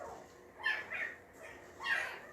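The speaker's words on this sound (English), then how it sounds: "Boy, those puppies are not happy. Listen to them." Unhappy puppies whimpering and yipping, three short high-pitched cries spaced apart, faint and fairly close in a quiet room.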